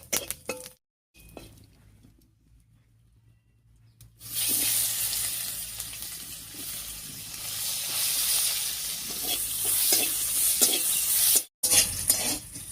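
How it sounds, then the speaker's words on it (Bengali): Chopped onion frying over whole cumin and dried red chili in a pan. After a few quiet seconds a loud, steady sizzle breaks out, broken by stirring scrapes, with one brief cut near the end. "ফোড়নের উপরে পেঁয়াজটা দিয়ে বেশ লাল লাল করে ভেজে নিয়েছি"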